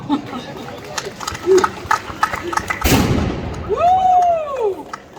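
A single loud, sharp ceremonial salute gunshot from a marksmen's fraternity cracks out amid crowd noise and chatter at the closing of the Hanseatic Days in Toruń, followed by a rising and falling whistle-like tone.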